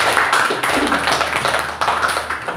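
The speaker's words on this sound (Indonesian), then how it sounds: "Ya, tepuk tangan untuk kita semua." Schoolchildren in a classroom clap together, a loud, fast, ragged patter of many hands close by, sustained throughout with a few brief dips.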